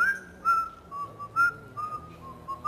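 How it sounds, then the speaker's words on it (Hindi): A man whistles a clear, shrill tune solo, sliding between sustained high notes in short phrases with brief pauses and no talk. "ये बड़ी जबरदस्त सीटी"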